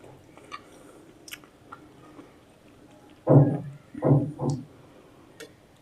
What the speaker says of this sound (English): Let's dig into this sandwich.